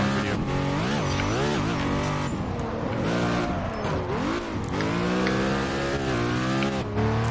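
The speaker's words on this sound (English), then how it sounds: "just tell it you really want to drift by holding the handbrake" Ruf RGT drifting on the handbrake in Test Drive Unlimited 2: a loud, close engine rising and falling through revs with sweeping pitch swings, overlaid by tire squeal and skidding, continuous throughout.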